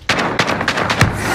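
Four sharp, loud gunshots crack close by in a battle royale shooter game, evenly spaced about a third of a second apart with no talking in between.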